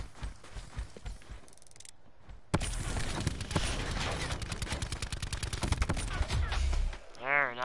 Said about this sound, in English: There, now I use a gun.